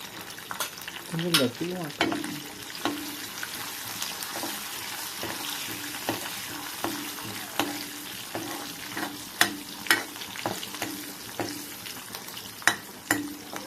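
Garlic, curry leaves and a little turmeric frying in hot oil for a dal tempering: a continuous crackling sizzle with sharp spatters and pops scattered across it, close and moderately loud.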